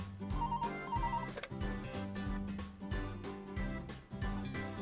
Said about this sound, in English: my work phone rang